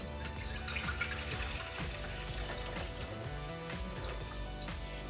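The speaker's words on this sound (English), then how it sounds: "Now we pour the milk into the bowl." Warm milk poured from a measuring cup into a mixing bowl for soft pretzel dough, a quiet continuous trickling stream for several seconds with a faint musical tone underneath and no speech.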